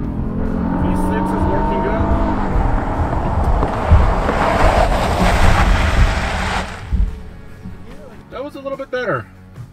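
A three-row crossover on dedicated snow tires accelerates hard from 0 to 60, its engine and tire roar rising loudly for several seconds before easing off, with voices in the cabin.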